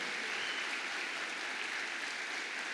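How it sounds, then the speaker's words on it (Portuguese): A church congregation claps together during a service, producing a dense, steady wash of applause that holds evenly for a few seconds with no voices over it. "Eu queria pedir que toda a igreja honrasse a Deus com suas palmas"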